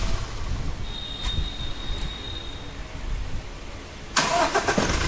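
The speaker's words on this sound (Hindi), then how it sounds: "तो देख सकते हैं हमारी गाड़ी हाफ सेट में चालू हो रही है।" A Toyota Innova Crysta with a starting fault cranks and catches after a few quiet seconds, its engine bursting into a loud, close start near the end of the clip.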